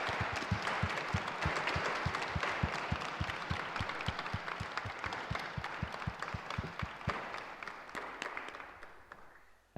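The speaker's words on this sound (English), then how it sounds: "please, everyone, a big round of applause for our lovely panelists" A conference audience applauds a panel, sustained clapping from many hands at moderate distance that holds steady for several seconds before tapering off.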